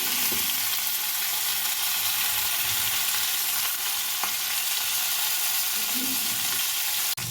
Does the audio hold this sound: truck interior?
no